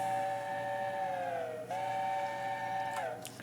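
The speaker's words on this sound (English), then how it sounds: "an LNER whistle, which I feel is only fitting for the Flying Scotsman" An LNER steam locomotive whistle on a Flying Scotsman A3 in a video game mod, a sustained chime-like multi-tone blast that dips in pitch, pauses briefly and sounds again, loud and close with no voices.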